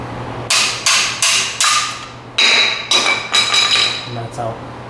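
Hammer taps a brake pad out of the caliper on a Mercedes-Benz front brake: about ten sharp metallic strikes in an uneven series, close and loud, some with a brief ringing tone.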